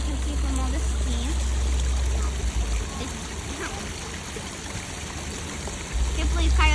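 Hot spring water flows and trickles steadily in Hot Springs, Arkansas, a continuous near wash with a low rumble, while a voice speaks over it.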